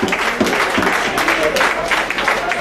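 Wrestling crowd cheering and applauding for Shawn Blaze as he gets to his feet in a match against Troy Buchannan, a loud continuous roar of clapping and voices.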